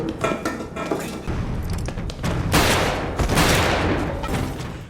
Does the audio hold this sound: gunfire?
yes